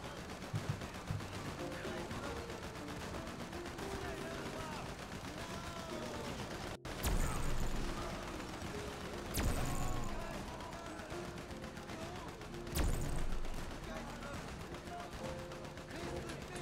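Video game gunfire sounds as repeated bursts and shots under continuous game noise, with a few louder blasts standing out, while a person talks over the action.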